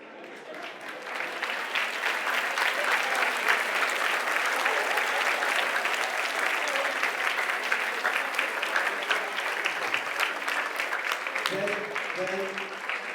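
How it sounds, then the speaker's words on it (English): A school assembly audience of students and staff claps steadily and loudly for students standing in their places, a dense sustained applause with a few voices rising near the end. "we want to clap for you"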